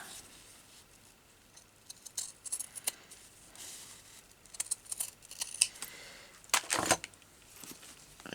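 Scissors snipping through craft material while making flowers, a scattering of quiet, close clicks and snips with short pauses, one louder burst near the end.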